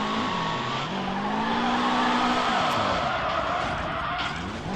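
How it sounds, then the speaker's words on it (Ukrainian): A car engine in the driving game CarSimulator2 roars loudly and continuously while drifting, its pitch rising and falling with revving, with faint tire squeal mixed in and no other sounds. "це так машина це реве"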